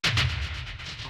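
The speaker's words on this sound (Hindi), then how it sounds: "गोलियां बरसने लगीं।" Several sharp gunshots crack in quick succession, loud and booming, with a last shot ringing out after a brief pause.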